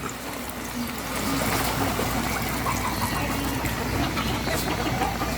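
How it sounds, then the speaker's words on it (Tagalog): First-press coconut milk is poured over taro leaves in a pot outdoors on a farm, a steady close liquid pour and trickle that continues throughout and swells slightly after the first second. "ilalagay na natin ang unang piga na gata"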